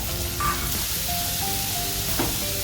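Four medium onions, finely chopped, frying in a pan with garlic and chili for a tiny-shrimp jawla dish: a steady, close sizzle hisses throughout, with a couple of faint clinks of stirring.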